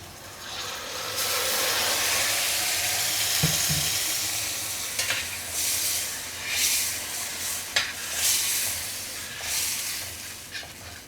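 Onion and masala paste fries in oil while it turns golden brown, with a continuous close sizzle broken by occasional scraping stirs and spatters.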